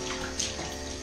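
Water running into a bathtub as it is rinsed down to clear grease, dust and soap scum before resurfacing, a steady close splashing hiss that holds level throughout with no talk.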